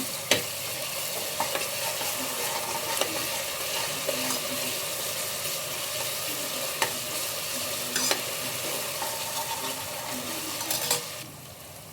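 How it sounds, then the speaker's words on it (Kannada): Ginger garlic paste fries in oil with a steady, close sizzle, broken by occasional light taps and scrapes of a stirring spoon, then the sizzle fades out at the very end. "ಶುಂಠಿ ಬೆಳ್ಳುಳ್ಳಿ ಪೇಸ್ಟು ಹಸಿ ಸ್ಮೆಲ್ ಹೋಗೋವರೆಗೂ ಫ್ರೈ ಮಾಡ್ಕೊಳ್ಳಿ ಸ್ವಲ್ಪ."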